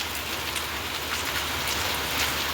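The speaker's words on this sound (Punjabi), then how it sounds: "ਅਜੇ ਵੀ ਵਧੀਆ ਤਰੀਕੇ ਨਾਲ ਪੈ ਰਹੀ ਹੈ ਬਾਰਿਸ਼" Heavy rain pouring down steadily, a dense constant hiss of drops hitting surfaces, loud and close, with no talking.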